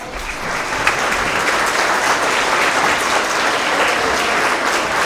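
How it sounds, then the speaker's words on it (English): Sustained audience applause for school staff at a K–2 spring award assembly, a dense, steady wash of many hands clapping throughout with no talking. "if we could, give them a big round of applause"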